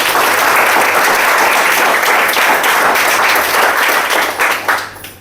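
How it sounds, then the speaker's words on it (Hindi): Loud, dense audience applause at a network marketing company presentation, sustained and steady before tapering off sharply at the end. "एक बार इनके लिए जोरदार तालियां।"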